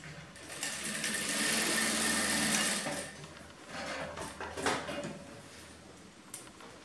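A sewing machine stitches a blouse seam in one sustained whirring run for about two and a half seconds, then stops and restarts in shorter bursts with fabric handling and small clicks, close by.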